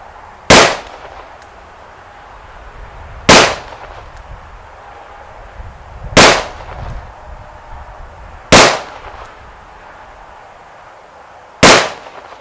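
Five loud, sharp gunshots from a Taurus M85 snub-nose revolver, fired one at a time at slow, fairly even intervals of a few seconds, each a crisp crack with a brief tail over a quiet background, no talking.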